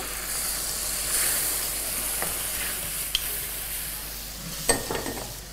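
Spice paste sizzles steadily in a hot pan with fresh tomato for a Bengali khashir mangsho bhuna, a continuous close frying hiss broken by a few sharp utensil scrapes and taps, no talking.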